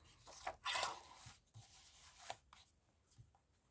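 Printed paper cut with a craft blade for a journal spread, a few quiet crisp slicing and rustling strokes, close and faint, with no talking.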